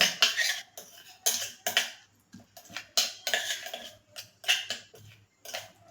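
A spoon mixes ghee into rice in a pot for Gujarati doodh pak, with repeated short scraping and clinking strokes against the vessel in an uneven rhythm, close by and without talk.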